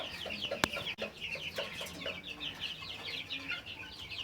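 Several chickens cluck and chatter nearby in a small 10 by 12 farm shed holding desi, golden and Egyptian breeds, with steady overlapping calls and a single sharp knock early on.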